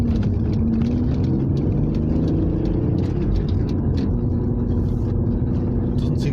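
An Alfa Romeo 156 V6 engine runs steadily while still warming up, a continuous low rumble held at an even level throughout with no speech.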